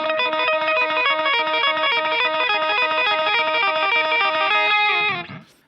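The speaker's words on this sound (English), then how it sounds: "It's called the dotted eighth delay" Electric guitar notes repeating in a steady, rapid echoing rhythm from a dotted eighth delay effect, loud and continuous, cutting off abruptly near the end.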